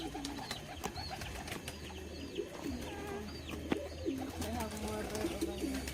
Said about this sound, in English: It's a lot of pigeons.